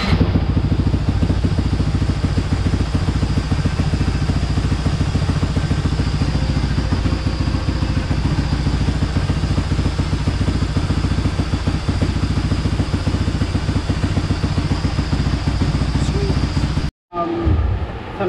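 A Honda TRX450 (LTR450) ATV engine fitted with a Vortex ECU holds a loud, steady high rev for about seventeen seconds, then cuts off abruptly before picking up again briefly.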